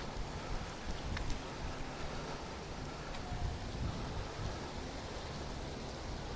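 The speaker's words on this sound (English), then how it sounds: "It is a very windy day" Wind gusts across a Philadelphia street on a very windy day as a steady, broad roar with brief buffeting swells, holding up through the whole stretch with no voices.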